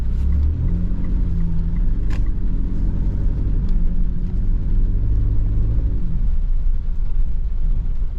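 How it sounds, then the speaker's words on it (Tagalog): A Mitsubishi Strada pickup engine running at raised RPM after intake manifold and throttle body maintenance, a loud, steady low rumble with a constant drone close by and no one speaking. "Parang bumilis ang pag RPM niya."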